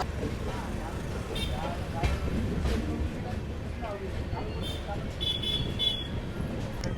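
Aboard the 20626 superfast express as it pulls out of platform 1 at Mehsana Junction, a steady low rumble and rolling noise continue with a faint horn-like tone near the end, while someone speaks over it.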